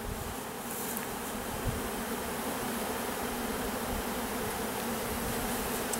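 Honey bees in a spring hive during an inspection and split drone with a dense, even buzzing hum, close and continuous throughout with no voices.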